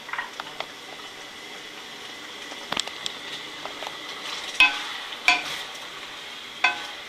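Potato curry in yogurt gravy with cilantro cooking in a pan, a soft steady bubbling sizzle under scattered sharp spoon scrapes and taps as it is stirred, fairly close and without talk.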